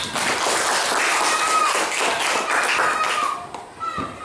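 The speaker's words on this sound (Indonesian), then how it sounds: "Luar biasa, tepuk tangan dulu." Students in a classroom clap their hands together in a loud, dense burst that holds steady for several seconds before stopping abruptly.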